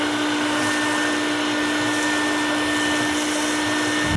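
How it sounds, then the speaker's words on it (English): A shop vac roars steadily as it vacuums ash out of a Yoder pellet grill during deep cleaning, a loud, continuous motor whine with no talking, cutting off at the end. "we're gonna get our shop vac and we're just gonna vacuum this out real quick"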